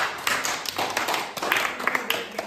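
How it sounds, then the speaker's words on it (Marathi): Students applaud a classmate who solved a matchstick triangle puzzle, a short burst of scattered clapping at moderate distance, mixed with faint voices in the background. "एकदा टाळ्या वाजवा"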